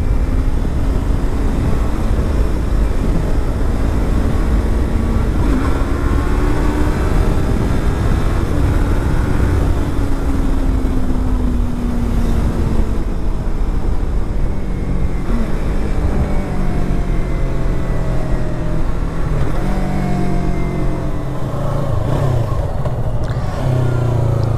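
A stunt motorcycle ridden outdoors, its engine loud and close throughout, with revs rising and falling in long sweeps over steady wind rush.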